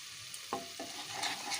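A cumin and coriander paste with spices fries in a little oil, giving a soft sizzle with a few quick stirring scrapes and light crackles, quiet and close.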